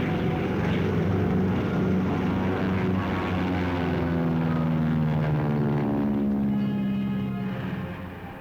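Piston engines of a World War II B-29 bomber in archival film give a loud, steady, droning roar with a rising and falling pitch. The sound holds throughout and fades slightly at the end.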